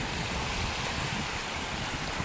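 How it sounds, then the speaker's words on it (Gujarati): A village river swollen by rain rushes past near a small check dam, a steady, continuous roar of flowing water with no voices over it. "જો આટલું પાણી આવી ગયું છે"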